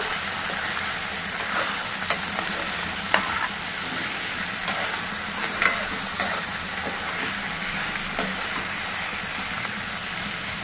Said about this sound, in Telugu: ఇప్పుడు కాలీఫ్లవర్ వేసాము.